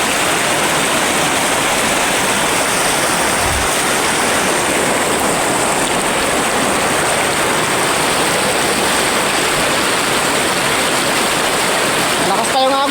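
A strong river current rushes past in a dense, continuous roar of flowing water, loud and close throughout.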